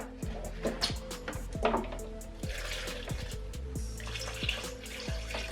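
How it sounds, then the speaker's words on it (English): Spring water pours into a blender for a smoothie, a continuous gurgling splash with close irregular bubbling and dripping that carries on for several seconds. "I'm gonna add my spring water."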